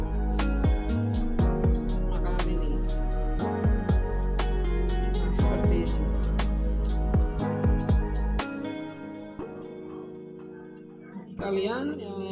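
Ciblek gunung chicks give repeated high, sharp chirps in quick bursts while being hand-fed, close to the listener, over a low background hum that drops away partway through.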